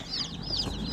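Young chicks in a delivered shipping box give a series of quick, high-pitched peeping calls, repeated in short bursts and fairly close, with faint rustling underneath.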